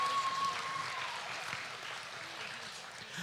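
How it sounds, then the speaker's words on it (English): Applause from the crowd at a state fair swine show in northern Wisconsin, heard after blue ribbons are awarded for a market barrow class. It is a steady, moderate clapping that holds for a few seconds and sounds somewhat distant. "Let's give them a big round of applause."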